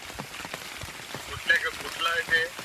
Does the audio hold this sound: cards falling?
no